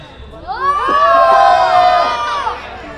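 A wedding musical night crowd on the groom's side shouts and cheers together, a sustained swell of many voices rising over about a second, holding loud, then easing off near the end.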